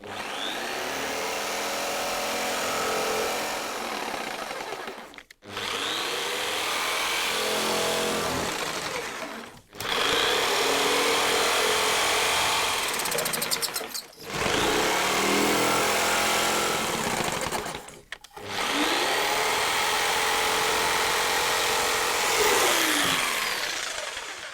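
A jigsaw cuts through wood in four long bursts, a loud buzzing rasp of the reciprocating blade with brief stops between passes, close and without talk.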